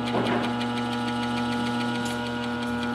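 A Cole Parmer Masterflex peristaltic pump with a 7079-20 head, a 115-volt, 6-amp unit set to variable speed, runs with a steady motor hum and a quick, regular pulsing whir of its rollers.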